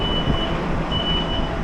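Reversing beeps from a truck at a delivery stop, a steady high-pitched tone repeating over continuous engine and road rumble, fairly loud and close, with no talking.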